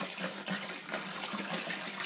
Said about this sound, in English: You just take the apple juice and just pour it in here.